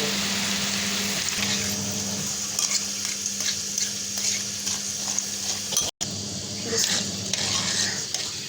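A handful of mung dal goes into a hot pan and sizzles in a steady, close frying hiss, with stirring scrapes and a brief cut near the end.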